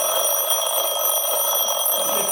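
An alarm clock rings loudly and continuously, a dense, unbroken electronic tone that holds at steady volume throughout.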